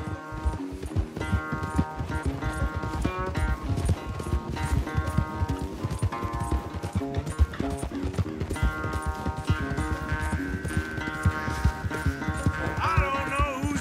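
Horses gallop in a race in Red Dead Redemption 2, a fast continuous drumming of hooves under game music, with people talking intermittently and a brief whinny near the end.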